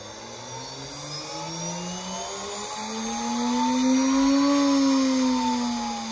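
A high-speed saw blade for cutting fountain pen nibs spins at 25,000 RPM with no nib fitted. It makes a loud, continuous whine that climbs in pitch, swells, then eases slightly, heard alone and close.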